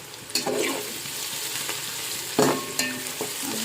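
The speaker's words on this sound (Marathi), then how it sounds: "टोमॅटो पण त्यामध्ये छानपैकी परतून घ्यायचे" Onion and tomato sauté in a pan for masale bhat, a continuous close sizzle broken by a few sharp spoon scrapes and stirring knocks, with no talking.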